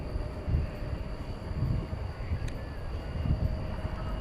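A 22-year-old Boeing 747-400 takes off at night at DFW Airport, heard as a steady, distant low rumble of jet engines that swells slightly and holds throughout.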